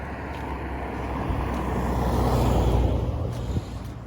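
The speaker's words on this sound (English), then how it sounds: "Loud cars going to church." Cars roar by on a nearby road by a church, a broad engine-and-tire rumble swelling and fading as vehicles pass, with no talking.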